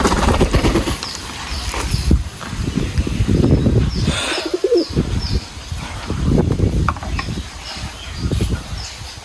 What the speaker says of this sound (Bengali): আমার কবুতর ভুট্টার চাইতে গমটাই বেশি পছন্দ করে খাবারগুলো দিব